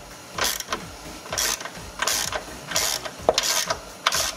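A ratchet wrench clicks in quick bursts as it loosens the negative battery terminal nut on a Dodge Journey, about six close, crisp rhythmic strokes of ratcheting separated by brief pauses.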